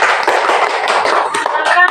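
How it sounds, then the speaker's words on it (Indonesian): A classroom group clapping hands after a student presentation, brisk close-range claps from several people blending into a loud, continuous patter, with a voice briefly audible near the end. "kita beri tepuk tangan dulu untuk kelompok 2 karena sudah mempresentasikan"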